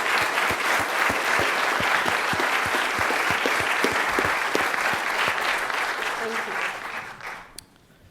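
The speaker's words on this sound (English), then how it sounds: "I would like to give our panelists a big round of applause" An audience at a panel discussion on climate change and art claps for the panelists, steady broadband applause with a few distinct close claps that fades out at the end.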